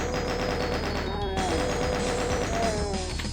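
Rapid bursts of chaingunner fire from Doom 64 enemies, a dense loud rattle of repeated shots running continuously over game music and background effects.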